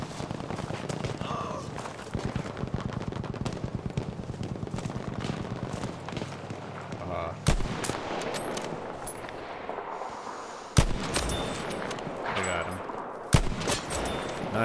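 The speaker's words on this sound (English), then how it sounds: "Shot from somewhere." Gunfire in Battlefield V, scattered sharp shots and bursts cracking over a dense, rumbling battlefield backdrop, with a few louder nearby reports standing out and some talk mixed in.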